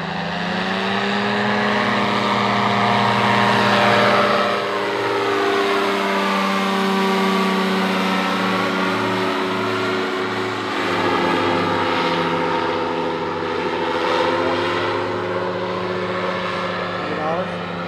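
A powered parachute flies past over Springfield, Nebraska, its loud buzzing propeller engine droning steadily with a pitch that rises and falls as it passes close by, alone without talk.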